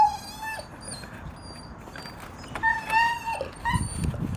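A dog whines and whimpers in high, wavering tones, a few drawn-out cries rising and falling over several seconds, close by, with a rougher rustle near the end.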